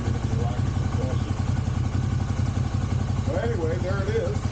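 A Honda CX/GL-series motorcycle engine, from a parts bike run with a missing wiring harness, runs steadily with a rapid, even chugging pulse, close by and loud throughout, with a few faint higher tones late on.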